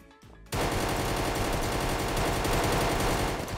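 Rapid automatic gunfire from a fast-shooting weapon in a video game minigame, a dense continuous burst starting abruptly after a brief quiet moment and staying loud and steady to the end.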